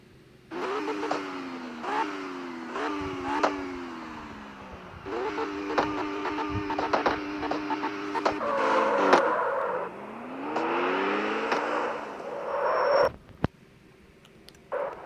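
A Honda S2000 engine in the CarX Street video game bounces off the rev limiter in repeated sharp stutters, rising and falling in short bursts, loud and close, with crackling backfire pops toward the end.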